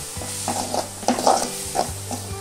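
Mutton pieces sautéing in a pan with a ladle of curry gravy, a steady sizzle under a low hum with several clear stirring scrapes and clinks of the spoon against the pan.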